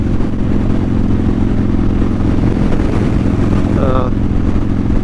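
Motorcycle engine droning steadily while riding, loud wind and engine rumble filling the whole stretch with a constant low roar, no clear breaks or shifts.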